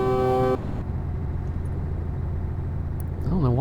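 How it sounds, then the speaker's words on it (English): A loud truck horn blares briefly at the start in Euro Truck Simulator 2 multiplayer, then a steady engine drone continues with a rising and falling tone near the end. "I don't know why he's honking so much."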